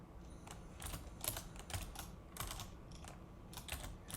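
Keys on a computer keyboard are tapped in quick, uneven bursts, close up and fairly quiet, with no talking.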